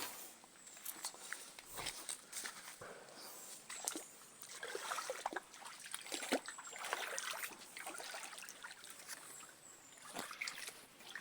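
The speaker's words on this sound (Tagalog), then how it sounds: "Ang sapa na may marka sinasabi ko kanina." Water trickles and splashes faintly in a small stream outdoors, with scattered rustles and crunching steps nearby and no clear talk.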